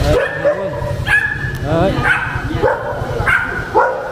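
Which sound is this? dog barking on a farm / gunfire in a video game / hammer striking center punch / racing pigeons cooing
dog barking on a farm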